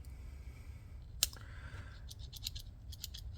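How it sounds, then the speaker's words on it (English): A sharp click, then a series of quick, light snips from the small scissors of a Victorinox Compact pocket knife, close and quiet, in an irregular rhythm. "The third tool is the scissors."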